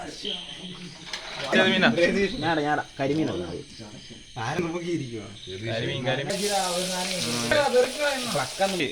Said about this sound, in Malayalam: മീനെ വറക്കാനുള്ള പ്ലാനിങ് കേട്ടോ